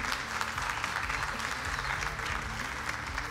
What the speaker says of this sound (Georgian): Ერთი ტაში მეგობრებო, ერთი ტაში.